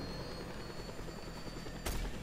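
A helicopter in the video game Just Cause 2 whirs steadily at low level, with a sharp thump near the end.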